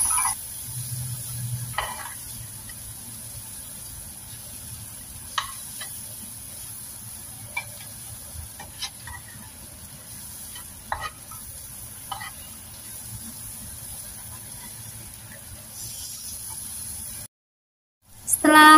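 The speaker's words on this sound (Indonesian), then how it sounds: "Aduk hingga tercampur rata." Soft sizzling of fried tempeh and small anchovies being stirred in a pan, with occasional scraping clicks of stirring, steady and fairly quiet throughout, before a brief drop to silence.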